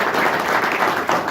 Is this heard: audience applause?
yes